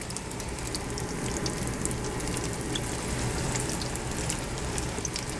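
Lumpia fry in hot oil in a pan with a dense, steady crackling sizzle, close and even throughout, with sharp spitting pops scattered on top and no talking.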